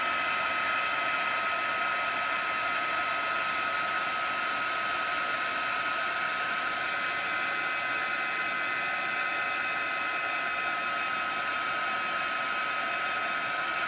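A hair dryer or heat tool blasts a steady, loud whoosh at close range while drying thick paint until it puffs, an unbroken airflow roar with no talking.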